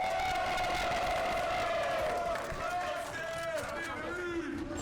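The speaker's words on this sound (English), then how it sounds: "Crowd, make some noise!" A crowd cheers and whoops at the Activate Series X esports LAN event during a Valorant-style match on Split, a sustained roar of many voices under an excited caster talking over it.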